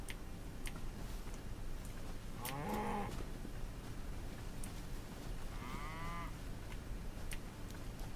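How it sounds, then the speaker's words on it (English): A cow in the video game Hytale gives two drawn-out moos a few seconds apart, over a constant soft ambient hiss with light ticking in the background. "Very cow-like. Yeah, they've got udders. It must be a cow."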